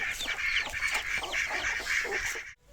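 Ducks kept for eggs on a Thai farm that also raises fighting cocks, giving a steady run of overlapping quacks and honking calls, close and loud, with no one talking, before the sound cuts off abruptly near the end.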